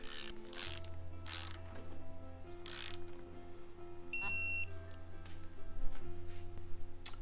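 A ratchet tightens the cylinder head bolts on a 2008 Subaru Impreza in short bursts of close mechanical clicking over a low hum, with a brief electronic beep partway through.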